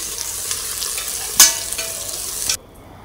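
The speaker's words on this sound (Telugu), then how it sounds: "నెక్స్ట్ ఆనియన్స్ వేసుకొని ఫ్రై చేసుకోవాలి" Onions hit hot oil with whole spices in a pressure cooker, giving a loud, steady sizzle with a sharp stirring scrape partway through, then cutting off abruptly near the end.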